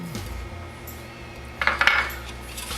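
Salt and pepper being stirred into a pot of mac and cheese: a few bright metallic clinks and scrapes of a utensil against the pan, clustered near the end after a quiet stretch of low background hum.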